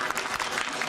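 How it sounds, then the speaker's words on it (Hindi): Brief burst of studio audience applause on an Indian TV quiz show, dense steady clapping filling the short moment without any voices. "एक्सपर्ट्स के लिए तालियां।"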